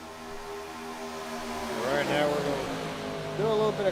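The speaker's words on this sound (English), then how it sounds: "Just listen to the sights and sounds of the ARCA cars at Talladega." ARCA race cars roar past at Talladega, engines droning steadily and then rising and falling in pitch as cars sweep by, loud and close with overlapping passes near the end.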